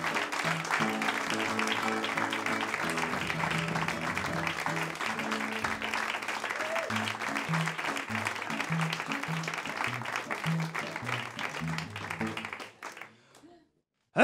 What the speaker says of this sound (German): Ein kräftiger Applaus